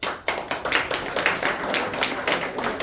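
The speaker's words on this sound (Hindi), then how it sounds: "सभी तालियां बजाएंगे साथ साथ।" At a Holi celebration with qawwali, an audience claps along in unison, loud rhythmic beats coming roughly every quarter second, close and steady.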